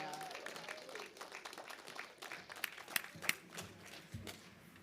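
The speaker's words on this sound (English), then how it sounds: "give yourself a round of applause" A church congregation claps through a Sunday service in a broad, steady patter of applause, with scattered louder claps and voices mixed into the room.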